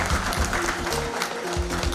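A crowd applauds a girl receiving a prize at a state school chess championship, with a brief, fairly loud clatter of clapping that carries some background hum.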